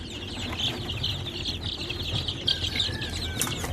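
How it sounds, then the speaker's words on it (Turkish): Chickens and roosters in a coop cluck close by in a busy, continuous chorus, with bursts of wing flapping and a few sharper calls. "bunlar horoz herhalde bu ibikliler"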